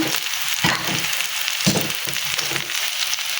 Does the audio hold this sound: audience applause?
no